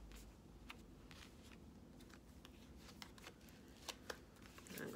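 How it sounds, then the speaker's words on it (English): Soft rapid riffling and flicking of cards, with a few sharper snaps near the end, quiet and close. "And I'm gonna shuffle, cut the deck,"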